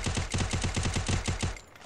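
Rapid automatic gunfire in the video game Free Fire, a steady burst of evenly spaced shots, loud and close, stopping abruptly near the end.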